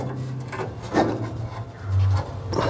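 A flathead screwdriver pries at an exhaust hanger under a 2010 Subaru Forester, making close scraping and rubbing sounds with a few short bursts and a low squeak.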